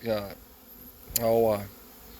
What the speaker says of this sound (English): you can see a lot of these bees